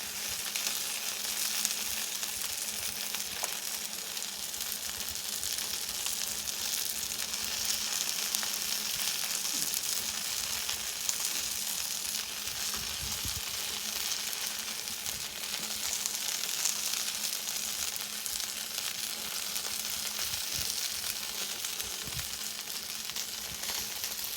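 Chicken frying on a Blackstone griddle as honey and soy sauce are mixed in, a steady, dense sizzle that holds throughout with occasional faint scrapes, close and continuous with no talking.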